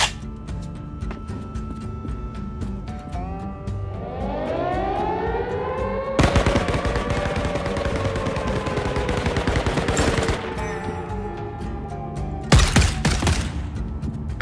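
Gunfire crackles in rapid bursts during a shooter video game, laid over a rising and falling air-raid siren wail, with a loud dense volley in the middle and another sharp burst near the end.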